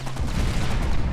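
Dense burst of gunfire from a card-game battle in KARDS, a World War II setting, striking a Panzer tank; a loud, continuous rattle with low booms runs through the whole short moment, with no talking.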